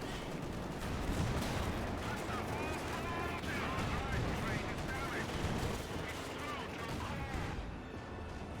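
Anti-tank guns fire in a Company of Heroes 2 battle. Repeated booming shots and crashing impacts come from several directions amid dense battle noise, with a voice talking over the din.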